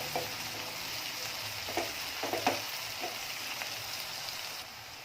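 Onion and capsicum sauté in a hot tempering for pav bhaji, giving a steady sizzle with a few scraping stirs partway through, close and fairly quiet.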